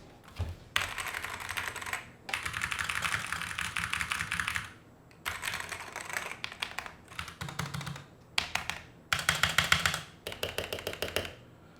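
Bursts of fast, crisp typing on a Wooting 60 HE 60% keyboard, each run lasting a second or two, separated by short pauses; the clacking is close and fairly loud, with no talking.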